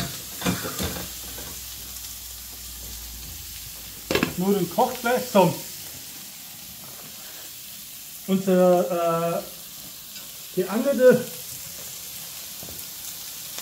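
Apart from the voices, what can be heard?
fish searing slowly in a pan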